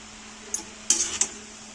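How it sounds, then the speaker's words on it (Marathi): Two spoons tossing veg noodles in a pan: three quick, light metallic clinks and scrapes spread over under two seconds against a quiet kitchen hum. "मिक्स कसं करायचं दोन्ही चमच्यानी"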